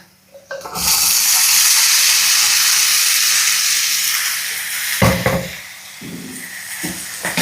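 Boiled Chinese potatoes tipped into a pan of hot onions and chillies set off a loud, sustained rushing sizzle that slowly eases off, followed by a couple of utensil knocks near the end, with no talking.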